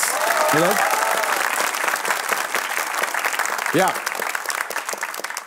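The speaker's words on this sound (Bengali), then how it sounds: "সবাই জোরে একটা তালি দাও।" A studio audience on a Bangladeshi talk show applauds loudly and steadily, with a host's voice cutting in over the clapping.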